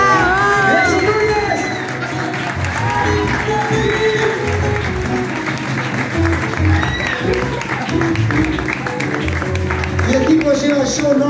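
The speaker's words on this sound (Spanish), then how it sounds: "un fuerte aplauso para mi hermano" A concert audience roars with loud sustained applause, cheering, whoops and shouts, a dense close crowd noise filling the whole stretch with no individual speech over it.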